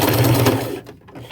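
A sewing machine back stitching a shirt seam, a loud close whirring needle run that slows and stops near the end.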